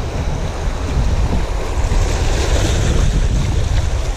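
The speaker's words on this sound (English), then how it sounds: "All right, I gotta watch these waves." Ocean surf at a rocky West Oahu shoreline where people fish for ulua, with waves breaking and washing in a continuous loud roar, mixed with steady wind buffeting the microphone.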